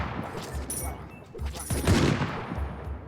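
Musketeers firing on enemies in the strategy game Ratropolis produce repeated muffled gunshot pops in a loose rhythm, moderately loud over a busy game backdrop, with talk underneath.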